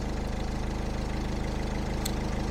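A car engine idles steadily and evenly during air-conditioning troubleshooting, a close, continuous low rumble with a faint regular pulse and no voices.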